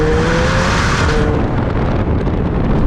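A McLaren 720S with a Novitec exhaust pulls hard in fourth gear, giving a loud, continuous roar up close with wind rush and a steady engine tone throughout.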